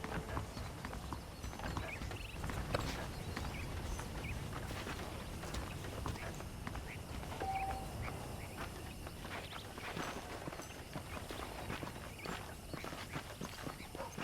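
Horse hooves clip-clop steadily through a dusty Old West town in Red Dead Redemption, a continuous walking rhythm under ambient game sound, with faint birds and a brief tone in the background.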